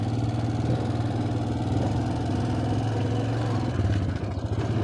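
A low, steady engine rumble from a Honda Foreman 400 ATV moving slowly in high gear without revving, close and continuous throughout.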